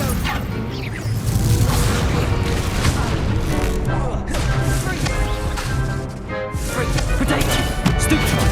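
Incendio fire spells cast in Hogwarts Legacy, loud whooshing fiery blasts and booming impacts repeating through a dense, continuous combat mix.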